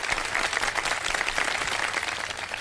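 A studio audience at an Iftar television show claps steadily and briskly throughout, a dense, even wash of applause with no voices over it.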